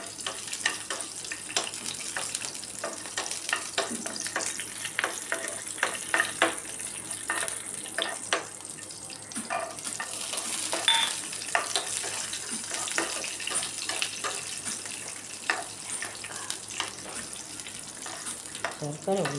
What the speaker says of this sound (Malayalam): അണ്ടിപ്പരിപ്പ് ഒന്ന് മൂത്ത് വരുമ്പോൾ നമുക്ക് മുന്തിരി ഇട്ട് കൊടുക്കാം